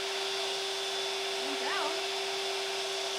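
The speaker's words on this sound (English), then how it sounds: "put the vacuum on it and see what happens" A vacuum cleaner running during bicycle internal cable routing, used to pull twine through a frame, a steady whining drone with a fixed tone, while a person speaks briefly under it.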